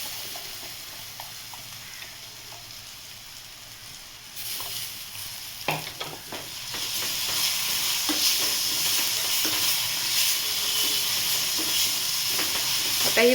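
Chopped tomato hits a pan of browned onion for a Marathi moong-matki usal curry, bursting into a loud, steady sizzle with stirring scrapes that builds after a quieter start and runs continuously to the end.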